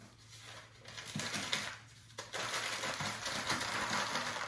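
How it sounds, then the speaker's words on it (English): Sheets of paper are crumpled and rolled together by hand into a log, giving close, irregular crackling and rustling with a few sharper crinkles. "I'm going to roll and crumple at the same time to create a log"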